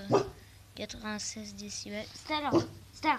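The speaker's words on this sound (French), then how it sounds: "Désolé, c'est mon chien." A dog barks a few sharp times, close by, mixed in with someone talking.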